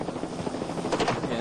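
A helicopter flies over an old-school off-road race, its rotor chop loud and steady throughout the short moment.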